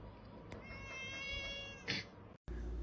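An annoyed house cat meows loudly and insistently for attention, a drawn-out cry up close followed by a short sharper call, alone with no talk.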